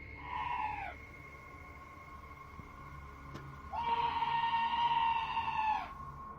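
Eerie scream outside a trailer door, two long wavering, shrill cries separated by a quiet pause, the second louder and longer, distant-sounding over faint background noise.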